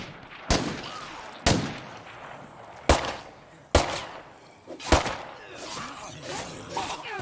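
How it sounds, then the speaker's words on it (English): Gunshots in the State of Decay 2 video game: five or six loud, sharp, spaced single shots, each with a short echoing tail, over faint background ambience. "I haven't really shot the guns in this game at all."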